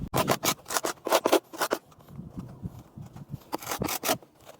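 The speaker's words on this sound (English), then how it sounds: "I just rub it on the concrete like this." An aluminum handrail end is scraped back and forth on concrete to knock off burrs, giving loud, close, rhythmic rasping strokes in quick bursts with a quieter stretch in the middle.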